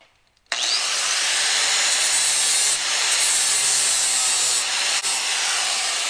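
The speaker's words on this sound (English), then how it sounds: "I got all the metal ground down, pretty much to where I want it" Metal on a car body being ground down with a power tool makes a loud, continuous abrasive rasping whir right up close, starting abruptly after a brief quiet moment and holding steady throughout without talk.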